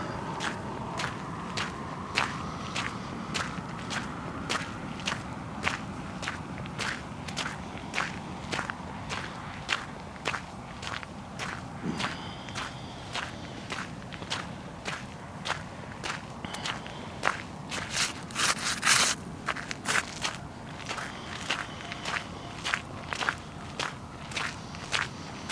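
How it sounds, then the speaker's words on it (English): Footsteps crunching steadily across the crusty salt surface of a cold desert playa at morning, a regular close walking rhythm of sharp crackling steps that continues throughout. "the sound you're hearing is me actually walking on salt"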